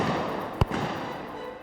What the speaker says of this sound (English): There goes the first shot from up there, it's a miss.